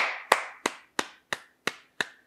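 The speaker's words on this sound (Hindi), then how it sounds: "तालियां बजाएं सब" Six sharp, evenly spaced claps, about three per second, close and isolated with silence between each, given as audience clapping on a television drama set.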